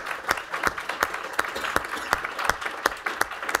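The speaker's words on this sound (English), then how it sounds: "Let's give Vince and Melissa a round of applause" A small audience applauds a panel of guests after a talk on social media and campaigns, with sparse, distinct claps ringing out individually at a fairly close distance, steady through the few seconds without any voices.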